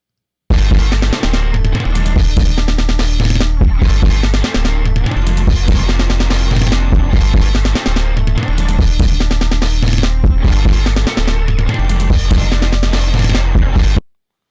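A loud, steady hip-hop beat: deep bass, punchy kick and snare with crashing cymbals, looping in a continuous groove with no voices.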